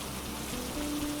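Steady rain falls in a soft, even wash of patter, continuous and moderately quiet throughout, with a faint low hum underneath and no voices.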